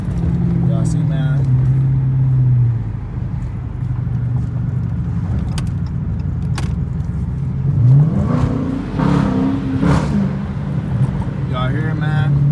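A Dodge Challenger R/T's exhaust rumbles continuously while driving, then revs up and falls after a downshift into fifth, loud and close, with someone talking over it.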